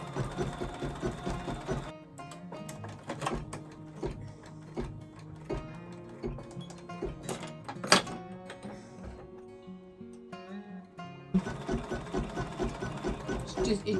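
A sewing machine lays down foundation stitches on a witch hat place mat, running in a steady, close mechanical whir with rapid needle ticks that pause briefly before resuming.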